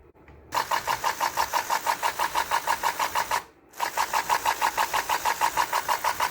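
A small electric motor, driven through an inductor with a parallel flyback diode, whirs with a fast, even pulsing buzz. It is close and steady, cuts out briefly midway, then resumes.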